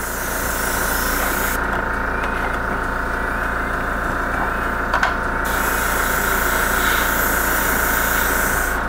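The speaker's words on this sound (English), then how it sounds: "That way I'm free to just kind of airbrush." An airbrush spraying Minotaur paint onto a Stormraven miniature model, a steady close hiss running throughout, briefly thinning in the middle before resuming, with small clicks from the trigger.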